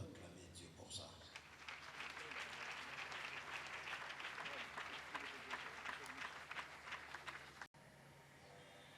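A church congregation breaks into loud, sustained applause and acclaim to God, dense clapping filling the room for several seconds before cutting off abruptly.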